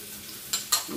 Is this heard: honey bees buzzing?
no